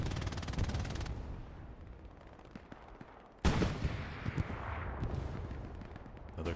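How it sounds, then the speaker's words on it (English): A sudden loud explosion in the Hell Let Loose World War II shooter bursts out midway and rumbles away, amid a battle soundscape of distant gunfire and artillery. "Another explosion happens to the left."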